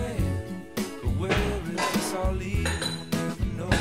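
Ceramic dishes and bowls clink and knock together in a kitchen as a bowl is picked up, a handful of sharp, bright clatters spread over a few seconds.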